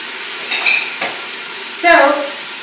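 Tomato and garlic frying in a hot pan over a simmer, a steady close sizzle with a couple of stirring scrapes and a brief clink of a utensil near the end.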